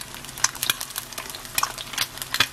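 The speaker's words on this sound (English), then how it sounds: "When you put that hot oil on the egg" Hot oil spooned over a frying egg in a pan at breakfast, giving faint crackling sizzle with several sharp clinks of a utensil against the pan scattered throughout.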